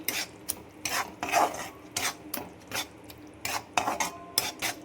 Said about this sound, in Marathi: चांगलं दही ह्याच्यात मिसळून घ्यायचं.